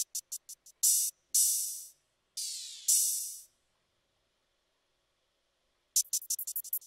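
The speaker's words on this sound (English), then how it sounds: "Then I played with this open hi-hat right here and it sounds like this." Open hi-hat hits in a Japanese-style beat made in FL Studio: a quick bouncy roll of short bright ticks, then several longer washy open hats that ring and decay, a silent gap, and another fast roll of hats.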